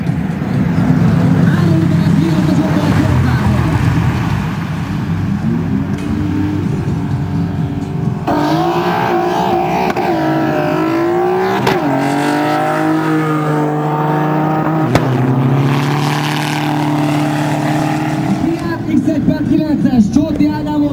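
A turbodiesel VW Golf race car accelerates down a drag strip at Kiskunlacháza, its engine droning and rising steadily throughout under continuous announcer commentary.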